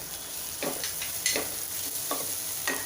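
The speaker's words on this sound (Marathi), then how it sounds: "अर्धा मिनिट हे परतून घ्यायचं आहे" Ground coriander, turmeric, asafoetida and cumin powder sauté in a hot pan with a soft, steady sizzle, broken by several quick spatula scrapes and stirs at irregular intervals.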